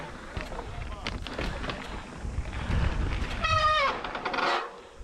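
Brakes squealing on a downhill: a low rumbling roll, then a brief, sharp, wavering high-pitched squeal near the end that slides upward and fades.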